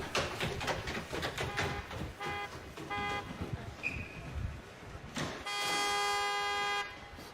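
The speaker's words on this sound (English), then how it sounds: "Who is honking the horn?" A car horn toots in several short repeated blasts, then gives one longer sustained honk, fairly near, with rumbling background noise between the blasts.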